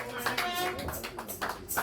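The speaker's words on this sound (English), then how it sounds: "a hand of applause, a hand of applause" Brief burst of hand clapping at a religious press gathering, mixed with voices talking over it, the claps irregular and partly masked by the speech.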